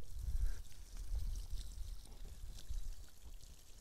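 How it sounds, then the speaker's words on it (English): Water pours steadily and softly from a can onto freshly sown bean seeds in garden soil, a faint continuous splashing trickle with no talk. "So we'll water those in thoroughly,"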